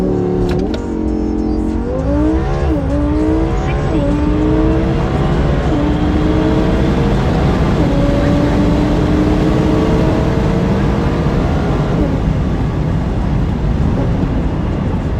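A Lamborghini Huracan EVO accelerates hard on a street, its engine note climbing through rising revs with quick shift dips, loud and sustained throughout, no voices.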